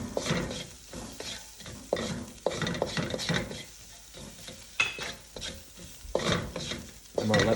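A utensil stirs and scrapes a sizzling spice paste of chili, curry and coriander in a hot pan for bison spaghetti. Steady frying hiss runs under irregular clinks and scrapes, recorded close.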